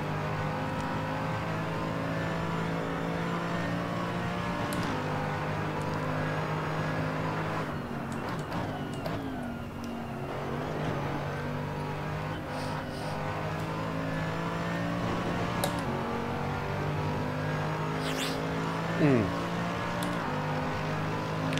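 A V8 race car in the Assetto Corsa sim revs hard through gears, steady engine drone with rising and falling pitch sweeps and shift dips, loud and continuous throughout with no talking.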